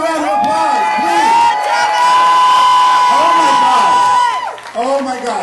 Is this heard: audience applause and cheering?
yes